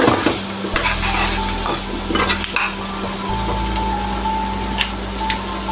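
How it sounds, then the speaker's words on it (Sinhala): Chopped cassava is stirred through hot oil in a pan for a curry, with a steady loud sizzle and intermittent spoon scrapes and clinks against the metal, no talking. "කලවම් කරගන්නවා හොඳට"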